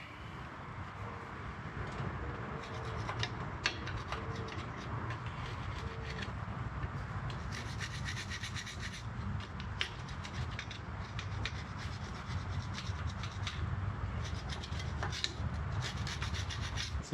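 An old gasket is scraped off the carburetor mating surface of a 1949 Studebaker in a continuous rasping, rubbing stream of strokes, steady and fairly close, with no voices.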